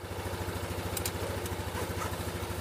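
A Honda CRF250L motorcycle runs along dirt trails, its single-cylinder engine giving a steady, close, continuous throbbing drone with rapid regular pulses and a faint clatter, with no talk.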